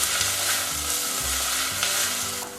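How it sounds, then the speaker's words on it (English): Tomato sauce for a homemade sauce fries loudly in a pan while a spoon stirs it, giving steady dense sizzling with low scraping strokes throughout and no voices. "And now it's been fried, stirred all around."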